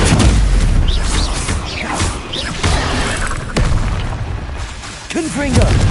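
Confringo spell blasts in the video game Hogwarts Legacy go off as repeated deep booms and crashes amid whooshing combat noise, loud and close, with a voice briefly calling out between them.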